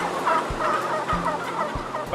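A house of 8,500 adult male turkeys at fourteen weeks, a dense flock clucking and gobbling continuously as an indoor barn din, with a brief voice heard over it.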